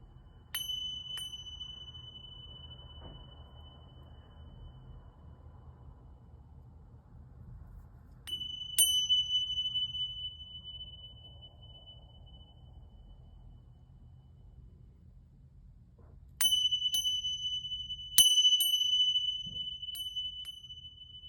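Small bells or gongs are struck in a few separate bursts, each bright ringing strike fading slowly, with quiet stretches of low room noise between them and no talking.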